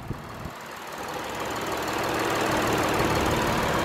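A 2008 Lexus IS250 with a 2.5-litre V6 idles close by, a steady low hum that grows slightly louder and fuller after a few faint clicks at the start.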